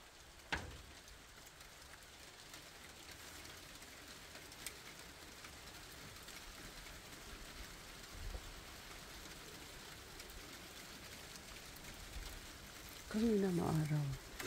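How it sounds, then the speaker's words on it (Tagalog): Rain falls steadily on surfaces in snowy Takayanagi, Niigata, a faint continuous patter with a few nearby knocks and a brief bird call near the end. "Ayan, umuulan na naman."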